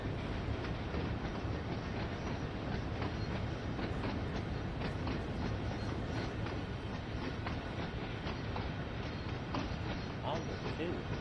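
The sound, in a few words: train locomotive running in video game Train Sim World 2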